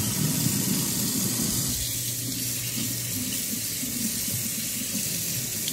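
Tap water runs steadily into a kitchen sink while salmon is rinsed, a constant close hiss and splash with no talking.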